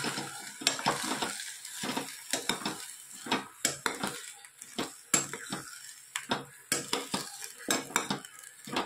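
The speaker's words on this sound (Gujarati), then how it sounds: "સરસ આપણે બધું મિક્સ કરી લઈએ ધીરે ધીરે." A spoon repeatedly scrapes and clinks against a metal pot while food is stirred and mixed slowly, producing irregular close knocks and scraping strokes with a faint sizzle underneath.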